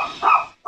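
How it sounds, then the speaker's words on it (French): A pet dog at home gives two short, close barks in quick succession, loud and sharp with a brief pause between them, with no speech over them. "Mon chien qui gueule, c'est chiant."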